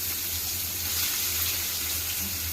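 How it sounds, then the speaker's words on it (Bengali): Sliced onion frying in hot oil in a pan gives a continuous soft hiss and sizzle, steady and close, with no talking. "এবার পেঁয়াজটা একটু ভেজে নেব হালকা করে"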